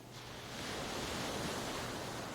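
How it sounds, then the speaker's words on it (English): Gentle sea water washing softly against the hulls of boats at a pier in El Nido, Philippines, a steady, faint, continuous wash with no talk. "You can hear the smallest sounds, the whisper of water against the hulls,"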